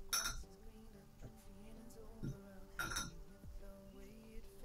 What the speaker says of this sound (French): je vais rincer mon pinceau